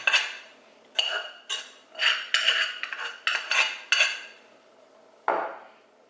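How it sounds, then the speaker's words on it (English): Cooked rice is dumped and spread across a metal sheet pan on a cooling rack with a utensil. It makes a series of close, scraping, clattering strokes in an uneven rhythm, ending with one heavier scrape. "we're just going to spread this rice and dump this rice onto the sheet pan"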